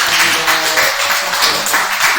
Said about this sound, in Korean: 뜨거운 박수로 환영해 주시겠습니다